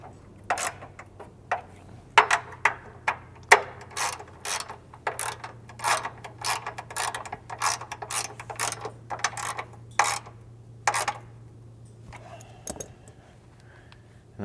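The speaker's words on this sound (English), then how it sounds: "you can come in here with your 10mm socket, tighten these two bottom bolts up going into this upper brace" A ratchet with a 10mm socket tightening bolts on a Jeep JK Wrangler front aluminum fender brace: quick bursts of close, sharp clicking separated by short pauses, over a low steady hum.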